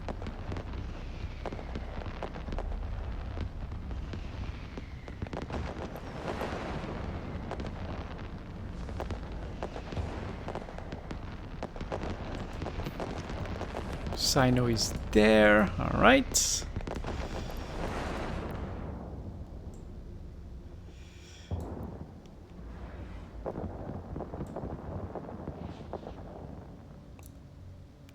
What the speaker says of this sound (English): Fireworks audio coming through now.